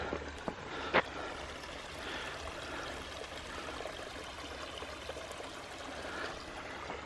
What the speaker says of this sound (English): gonna cross over the Speck Pond outlet where it just kind of drains out